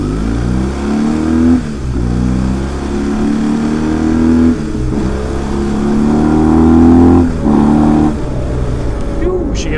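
A heavy motorbike engine accelerates hard while cruising, loud and close, climbing in pitch through several gear changes with brief dips between them, and a rider speaking over it.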